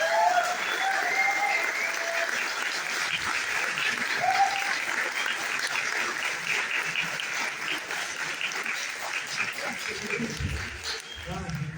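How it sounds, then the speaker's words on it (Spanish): Sustained audience applause at a university event in Acatlán, steady clapping filling the whole stretch as a speaker is welcomed, with some voices in the crowd. "Un fuerte aplauso para Paco."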